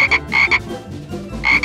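A cartoon frog croaks in loud, close bursts, two quick pairs of raspy calls, then a pause, then another pair, with no talk over them.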